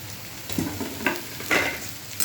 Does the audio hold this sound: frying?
yes